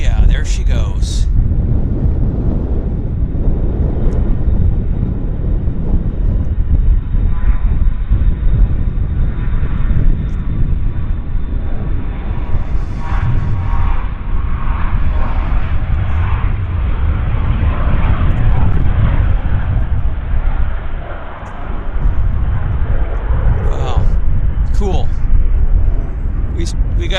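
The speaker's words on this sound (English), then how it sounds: "watch a beautiful Falcon 50 here at YVR departing on runway 26 left" A Dassault Falcon 50 business jet departs runway 26 left at Vancouver airport in strong winds, its engine roar loud and sustained with gusty wind buffeting the microphone, and a person talking over it.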